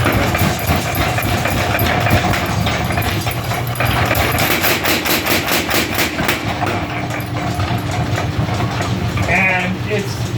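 Mechanical power hammer driven by an off-center flywheel pounding metal in a blacksmith shop, a loud rapid rhythmic run of strikes over a running engine hum, with someone talking at times.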